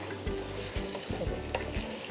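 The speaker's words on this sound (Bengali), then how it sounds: "মাটনটা একসাথে পেঁয়াজের সাথে ভাজা করতে করতে আমি বাকি সব কিছু দিয়ে দিচ্ছি" Mutton frying together with onions in a pan for a festive Eid rogan josh, a steady close sizzle broken by about five rhythmic scrapes and stirs of the spoon, with no voices.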